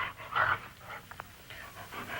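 Lassie, a dog, pants close by in quick rhythmic breaths with a few soft whimpery sounds, over a faint low background hum and no talk.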